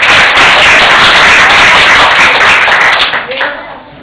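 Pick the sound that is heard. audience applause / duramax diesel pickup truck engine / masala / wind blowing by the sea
audience applause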